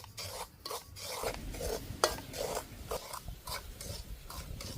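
Semolina (rava) stirred in a pan while cooking a sweet, giving close, rough rasping scrapes in an uneven rhythm over a low background hiss, with no talking.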